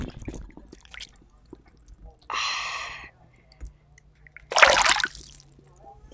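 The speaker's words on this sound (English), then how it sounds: "let's get the fish back into the water." A released fish splashes back into the water in two separate bursts of sloshing spray, the second louder and closer, with faint whispery voices and quiet handling noises in between.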